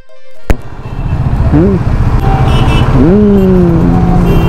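An auto rickshaw pulls up close by, its engine idling with a steady low rumble throughout, while voices talk over it and a horn-like tone rises briefly twice.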